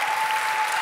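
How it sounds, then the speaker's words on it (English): Audience applause fills a short moment at a talk event, a dense, even wash of clapping from a seated crowd that continues without a break. "So a big applause for Diane Warren."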